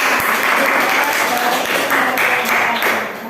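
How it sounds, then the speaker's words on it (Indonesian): Classroom students at an Islamic high school economics lesson applaud group 2, giving a short burst of loud, dense clapping that stays steady and then tapers slightly at the end. "Tepuk tangan untuk kelompok 2"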